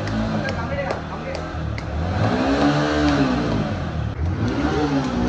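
A Yamaha MT15 motorcycle engine revs hard and rises in pitch before easing off, fairly close and sustained, with people talking over it.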